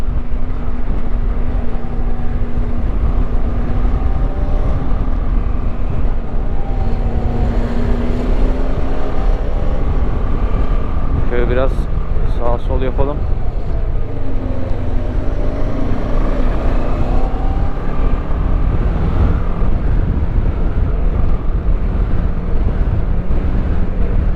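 A CF Moto 650 MT motorcycle engine drones steadily while riding on a cold day, loud and constant under heavy wind rush, its tone shifting slightly as the rider changes speed.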